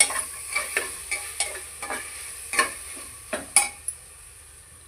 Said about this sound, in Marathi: आपण हा मटार त्यामध्ये टाकणार आहोत, आणि हे बारीक कापलेले गाजर पण त्यामध्ये टाकणार आहोत